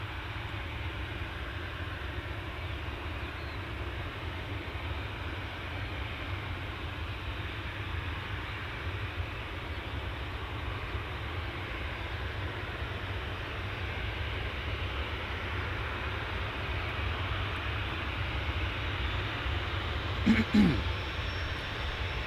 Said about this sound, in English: Ryanair off to Vienna, Boeing 737-800.